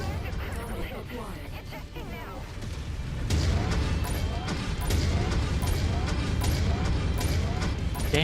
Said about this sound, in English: Damn, those auto cannons.